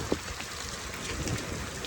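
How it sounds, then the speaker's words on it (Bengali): Heavy rain falls steadily during a storm in Vrindavan, with a dense, continuous hiss close to the phone and one brief tap near the start, and no voices. "বৃষ্টিতে মোবাইলের ক্যামেরাতে বারে বারে জল পড়ছে"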